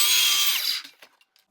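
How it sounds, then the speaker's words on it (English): A miter saw cutting a 45-degree back cut on the end of a piece of trim molding, a loud whining cut that stops abruptly, followed by a few faint clicks and the blade winding down. "For this, you're going to need a miter saw, and on this piece of trim, we're going to make a 45-degree back cut on the end of this piece."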